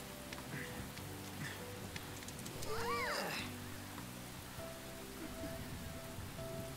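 Rain in the Persona 5 Royal video game, a steady soft patter running throughout at low level, with a cat's meow rising briefly in the middle.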